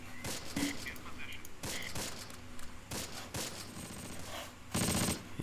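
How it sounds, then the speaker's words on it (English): In the Close Combat night assault wargame, mortar rounds strike enemy units as a quiet, rapid series of sharp bangs and crackling impacts, with a fuller burst near the end. "So we're going to drop some mortars there."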